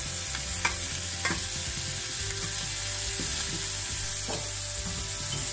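Turned shrimp fry in a pan, a loud, continuous close sizzle with a few faint knocks, no talking.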